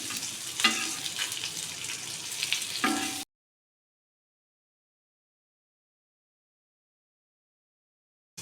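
Rock fish (parai) pieces fry in a pan, a close crackling sizzle with a few stirring scrapes for about three seconds before the sound drops to silence.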